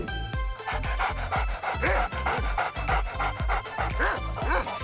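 A dog pants rapidly and rhythmically close by, breathy strokes repeating steadily several times a second while playing a treat-finding game with movable lids.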